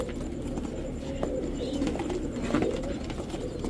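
Pakistani Teddy pigeons coo softly in a steady low murmur, with faint chirps and rustling around them; no one speaks.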